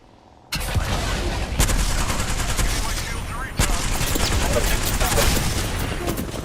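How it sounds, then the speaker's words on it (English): Heavy automatic gunfire in an Apex Legends match bursts in abruptly after a quiet start, loud rattling volleys continuing with a brief dip midway, close and dense. "Getting shot. Taking fire."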